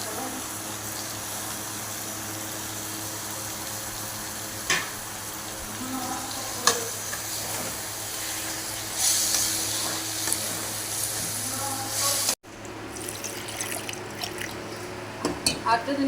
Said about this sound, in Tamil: அடுத்தது சிக்கன் போட்டுக்கிறேங்க